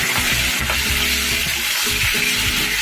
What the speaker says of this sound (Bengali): এভাবে একটু ভেঙে ভালো করে মাথাটা যাতে ভাজা হয়